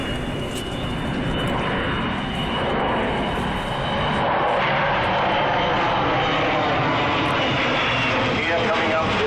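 An Avro Vulcan bomber jet flies low overhead with wheels down during an overshoot at Farnborough airshow, a loud, sustained roaring engine rumble filling the whole clip without letup.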